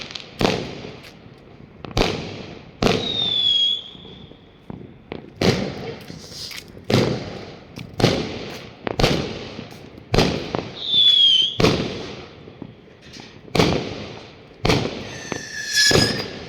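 Fireworks and firecrackers burst on New Year's Eve in China, loud and close in a rapid irregular series of sharp bangs, with a few whistling rockets rising between them.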